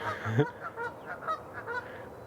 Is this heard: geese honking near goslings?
yes